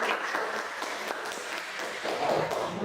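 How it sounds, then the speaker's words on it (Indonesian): Students in a classroom applauding together, a dense continuous patter of clapping at moderate volume that swells slightly near the end. "Kita beri tepuk tangan."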